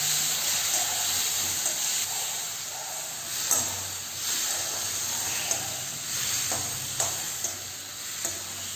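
Four cloves of garlic sauté in a pan, a soft continuous sizzle broken by occasional scraping stirs and light clinks from the spatula, close up with no voices.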